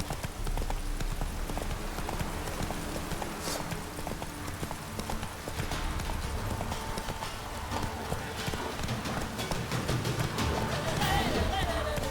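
Roach, the horse in The Witcher 3, gallops with a steady clip-clop of hooves that runs continuously under a low, busy ambient rumble.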